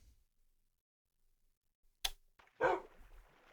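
A dog in a video game lets out a sharp, brief bark, followed by a single louder, fuller bark a moment later, against otherwise near-silent surroundings.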